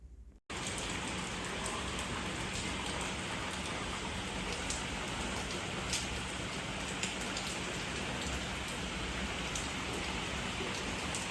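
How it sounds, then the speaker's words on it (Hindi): Steady rain pours down continuously, a dense even hiss of drops hitting surfaces, with scattered louder drips throughout. "अचानक से बारिश शुरू हो गई।"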